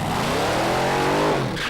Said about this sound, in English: here's a full-bodied funny car